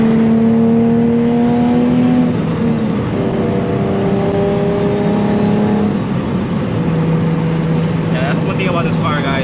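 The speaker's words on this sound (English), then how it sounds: "I can't do any pulls, but I can give you guys some boost noises." Engine of a tuned 700 whp turbocharged Nissan 350Z cruising on the road, a steady droning hum that shifts pitch as it eases on and off throttle, close and continuous with a faint hiss near the end.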